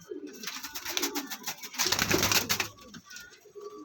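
Imported white-eye pigeons, a flock of twelve kept in Faisalabad, coo in soft, overlapping, throaty calls. A louder cluster builds midway, then settles back to quieter cooing against a faint background.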